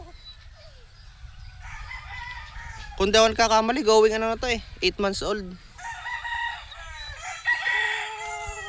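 An eight-month-old gamecock of Lancy and Apple Spark bloodline crows once loudly and close, a long wavering call, with clucking before and after while someone talks.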